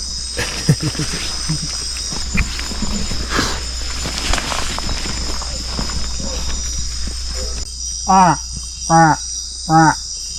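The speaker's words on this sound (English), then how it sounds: "The sound is a frog." In the Amazon jungle, insects buzz steadily in the background, then a very small frog gives three short, sharp harmonic calls in an even rhythm near the end.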